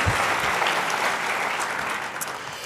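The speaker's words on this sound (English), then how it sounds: "let's give them a round of applause" Steady applause from an audience at a government leadership event, a dense wash of many hands clapping at even loudness for the whole stretch with no voices over it.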